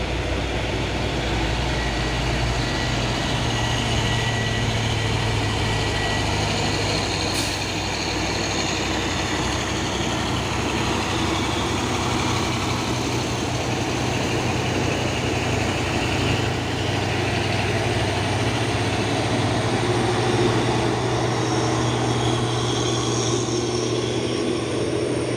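Fuso dump truck engine running, a continuous low diesel rumble with a steady drone, loud and near throughout, with road and wind noise and no talking.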